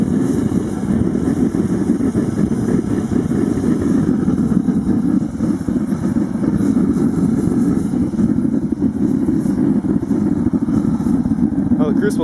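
An atomizer burner running rich while heating a crucible gives a loud, steady, deep roaring rumble that continues without a break throughout.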